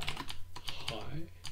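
Brief burst of clicking keys on a computer keyboard, a few distinct taps in quick succession, moderately loud, with a voice faintly present underneath.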